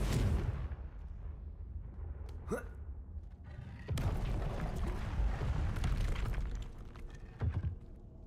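Confringo blasting spells in the Hogwarts Legacy video game go off in several sharp bursts and booming impacts amid combat noise, with brief whooshing casts between the blasts.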